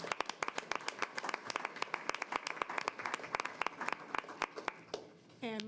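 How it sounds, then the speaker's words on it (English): A school board meeting audience gives a round of applause for students and performers: scattered, uneven claps from a modest crowd, ending with a brief voice. "Please give a round of applause to NSA's students"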